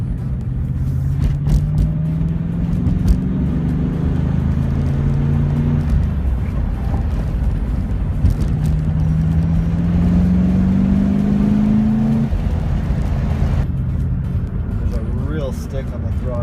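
A BMW E36 M3 with a V8 swap drives along, its engine note rising and falling in long steady pulls that run throughout, while someone talks over the drone from inside the car.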